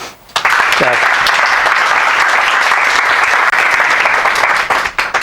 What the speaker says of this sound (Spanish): así que por favor pido un aplauso para Ángel.